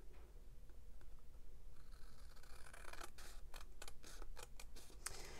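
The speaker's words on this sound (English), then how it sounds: "So I'm going to cut that off just so I can have an even spot to show you there." Scissors snip off excess paper for a handmade holiday folio craft project, a rapid run of crisp close cuts and clicks starting about halfway through, with no one talking.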